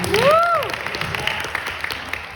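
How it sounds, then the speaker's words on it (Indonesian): Audience applause at a solo stand-up comedy contest in Bali, 2023: steady clapping throughout with a brief rising-and-falling whistle near the start. "Tepuk tangan."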